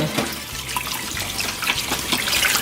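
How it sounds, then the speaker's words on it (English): Cracked boiled eggs going into a bowl of cold water, giving a steady close trickle and splash of water with small drips and clinks, no talking, for a Cajun gumbo. "cracking them and putting them in cold water"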